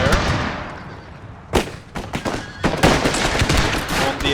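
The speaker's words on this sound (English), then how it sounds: "these will unleash pistol fire" A ragged volley of pistol fire from Total War's Thirty Years' War battles crackles in several sharp bursts, loud and close, stacking into a rapid flurry of shots after a quieter start.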